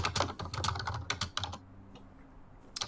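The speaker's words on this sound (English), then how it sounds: "We're just going to do typing." Fast typing on a computer keyboard: a dense run of crisp key clicks for about a second and a half, then quiet, with one last stroke at the end.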